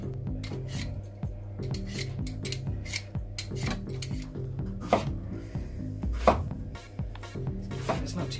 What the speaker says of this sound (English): I'm cutting up the pepper now